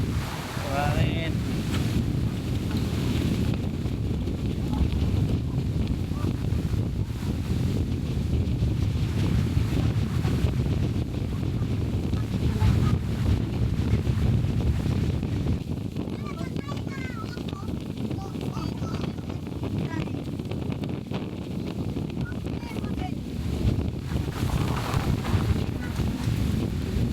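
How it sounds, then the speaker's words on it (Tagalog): Strong wind buffeting the microphone on a beach at Calilayan Cove after Typhoon Inday, a continuous loud rumbling roar with surf mixed in, and voices faintly in the background. "wala nang bagyo pero lakas ng hangin"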